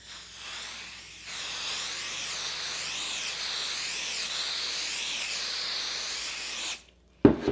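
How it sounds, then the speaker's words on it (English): 505 spray adhesive sprayed onto foam in a sewing project, a steady close hiss lasting several seconds after a short first burst, then stopping with a brief clatter. "I'm going to spray one side of my foam with my 505 spray"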